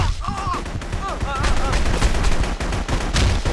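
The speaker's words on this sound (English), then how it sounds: "I'm getting shot a lot." Gunfire in The Punisher rattles loud and close in dense, continuous bursts with sharp individual cracks, and a voice cries out briefly at the start.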